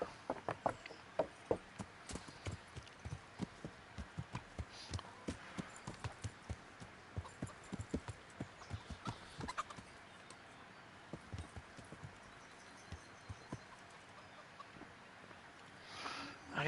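Horse hooves clip-clop at a steady riding rhythm in the video game Kingdom Come: Deliverance, close and fairly loud for about ten seconds before thinning out into quieter, sparser steps.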